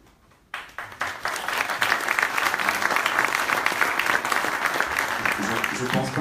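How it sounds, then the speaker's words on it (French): Audience applause at an energy and blockchain innovation meetup, beginning after a brief quiet moment and swelling into steady, dense clapping that fills the room for several seconds. "Je pense pas que l'angoisse que j'ai générée mérite des applaudissements, objectivement."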